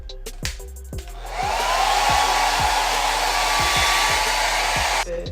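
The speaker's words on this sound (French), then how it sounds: "tu utilises ton sèche-cheveux" A hair dryer switches on and blows with a loud, steady whoosh for several seconds, then cuts off, with faint clicking in the background.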